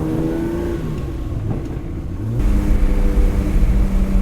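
Ferrari 330 GTC engine rumbling while driving, pitch climbing under throttle before a sharp jump into a louder, rougher rev that holds steady, close and dominant with no talking.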